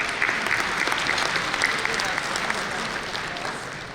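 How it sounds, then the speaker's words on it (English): Steady applause from an event audience honoring doctors at a Pakistani-American physicians' summer gathering, a continuous even patter of many hands at moderate distance, alone without talk. "Let's give our doctors a round of applause"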